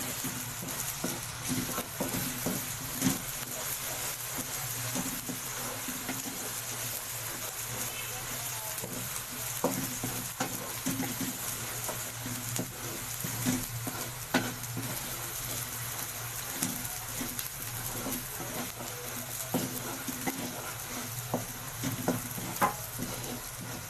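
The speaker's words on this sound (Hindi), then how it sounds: "अब इसमें डालेंगे लहसुन अदरक का पेस्ट। वो भी साथ साथ इसके अच्छी तरह फ्राई करेंगे।" Browned onions fry with garlic ginger paste in a karahi for chicken, a steady sizzle with repeated stirring scrapes throughout, and a voice speaks faintly at times.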